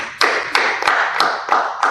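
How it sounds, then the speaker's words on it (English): A small group at a guest event clapping in a slow, even rhythm, six or so distinct claps spaced evenly and close to the microphone. "A round of applause to Junior Jotega."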